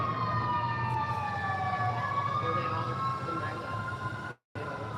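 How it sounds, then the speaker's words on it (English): A wailing siren sweeps up and down steadily over low rumbling traffic noise, fairly loud, with a brief dropout near the end. "Now we got sirens. Where the sirens is going?"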